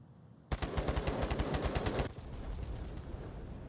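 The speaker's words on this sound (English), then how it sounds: "More gunshots coming out." A rapid burst of automatic gunfire in a VR shooter game, evenly spaced shots for about a second and a half, then cuts off into a lingering hiss.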